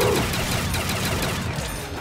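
Dense, continuous rapid-fire minigun gunfire in a zombies video game, loud and unbroken throughout with no gaps, alone without talk.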